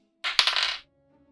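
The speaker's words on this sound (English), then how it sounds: "watch you roll the dice and get neither" Digital dice rolling in the video game Slice & Dice, a single short bright clattering rattle that ends abruptly, heard alone.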